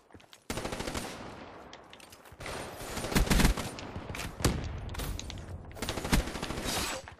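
Rapid-fire bursts from the HVK assault rifle in Black Ops 3, fitted with a long barrel and fast mags. The loud automatic fire comes in several dense volleys separated by brief pauses, with no talking.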